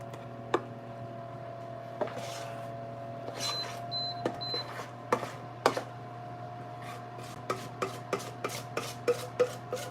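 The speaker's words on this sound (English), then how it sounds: "So I'm scraping the bottom and getting all of that goodness out of there." A metal utensil scrapes across the bottom of a pan in a series of short, fairly quiet rasping strokes that fall in an irregular rhythm. A steady low hum runs underneath, and no one speaks.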